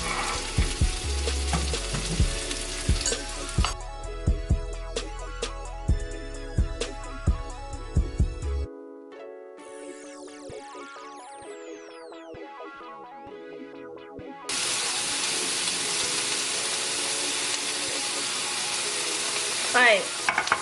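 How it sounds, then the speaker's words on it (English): Rice stirred in a pot on a home stove while shrimp and other food fry nearby, with a steady sizzle and scraping spoon strokes under background music, a quieter gap midway before the frying hiss returns loud and close. "Make sure you're stirring your rice so it don't stick."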